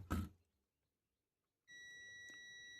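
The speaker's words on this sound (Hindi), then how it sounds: "तो यही बीप करना चाहिए।" A multimeter on continuity test across a small PL4701 coil: a brief thud from the probes, a short silence, then a steady continuous electronic beep that holds to the end.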